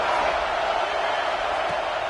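Football stadium crowd roaring on a fourth-down defensive stand, a dense sustained wall of cheering and shouting from a large audience, loud and continuous throughout.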